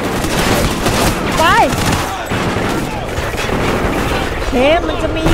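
Loud bursts of rapid gunfire in Call of Duty: Ghosts rattle almost continuously, with booming impacts and excited voices talking over the shooting.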